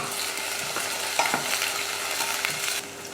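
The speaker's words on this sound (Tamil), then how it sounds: "ஒரு பெரிய வெங்காயமும் 2 பச்சை மிளகாயும் சேர்த்துட்டு கொஞ்சம் கருவேப்பிலையும் சேர்த்து வதக்கிக்கலாம்" Broad, steady sizzling of onions, green chilies and curry leaves sautéing in oil in a pan, with a few soft clinks of stirring and no voices.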